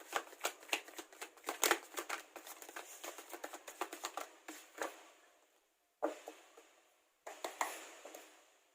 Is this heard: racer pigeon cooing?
no